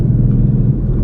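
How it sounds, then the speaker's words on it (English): Low, steady rumble of a 2020 Ford Mustang 5.0 Coyote V8 with its muffler deleted, cruising on a highway at night, heard from inside the car as a constant near drone without revving. "And you can just hear the pony, man. This Coyote engine is an amazing car."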